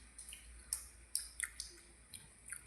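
Rain drips in scattered, irregular drops during a heavy downpour. The drops are faint, close and crisp against a low background hiss, with no talking.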